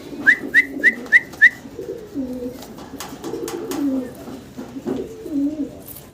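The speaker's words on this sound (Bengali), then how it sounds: "দর্শক আমরা খুব সুন্দর একজোড়া কবুতর দেখতে পারতাছি" A pair of young pigeons offered for sale coo in soft, low, rolling phrases up close. A quick series of five sharp whistled chirps comes first, then several coos follow one after another.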